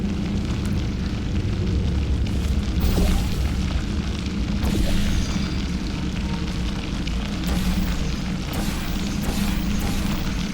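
Gel splashes out in a continuous gushing, splattering stream in Portal 2, dense and loud throughout with a few heavier bursts.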